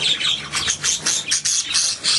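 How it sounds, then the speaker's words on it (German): A pet bird gives a rapid series of harsh, close squawks in steady bursts for about two seconds, with no other sounds standing out. "Ob wir den Winnie-Vogel auch auf die Hand kriegen, ne?"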